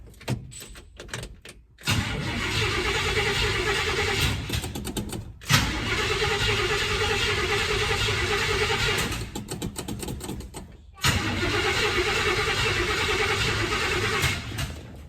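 A 1972 Chevrolet C20 Longhorn pickup's engine cranking and catching in three separate attempts, each a loud, sustained mechanical roar broken by brief pauses and clicks.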